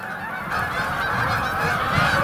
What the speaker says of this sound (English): Most of them are flying away. Man, there's waterfowl everywhere right now.